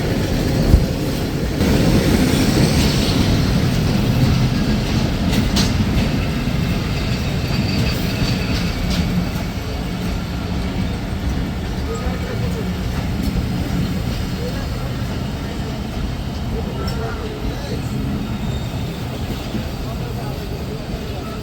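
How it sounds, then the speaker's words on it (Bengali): Mahananda Express, bound for Khulna from Chapainawabganj, rolls into a station in Rajshahi, a loud steady rumble of wheels and rail clatter with faint squeals, continuing throughout at close range. "প্রবেশ করছে চাঁপাইনবাবগঞ্জ থেকে ছেড়ে আসা খুলনাগামী মহানন্দা এক্সপ্রেস"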